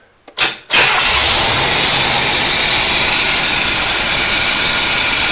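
A 1975 Chevrolet Corvette C3 convertible engine, long neglected, cranks briefly and then catches, settling into a loud, steady roaring idle that continues close by without any talk.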